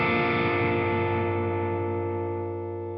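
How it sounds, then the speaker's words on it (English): Electric guitar through a ToneX One pedal with reverb, a sustained distorted chord ringing out and slowly decaying with a lush reverberant tail, alone with no talking. "the ToneX is running some reverb at the moment."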